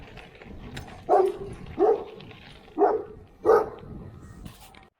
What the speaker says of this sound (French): Voilà, comité d'accueil, les chiens.